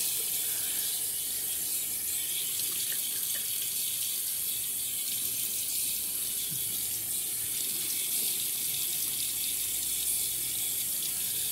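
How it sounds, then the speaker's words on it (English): Running tap water rinses a safety razor in a sink, a steady close hiss and splash that holds throughout with faint clinks of metal, and no voices. "We're going to rinse off the razor."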